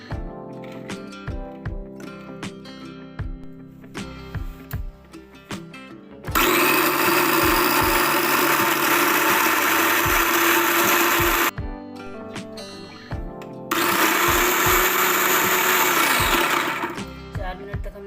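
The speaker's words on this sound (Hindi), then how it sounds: "इसको पीस लेते हैं।" An electric grinder grinds boiled chana daal in two long, loud whirring runs separated by a short pause, preceded by knocking and handling sounds of the jar.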